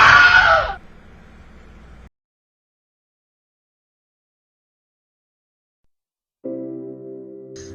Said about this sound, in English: The Wilhelm Scream.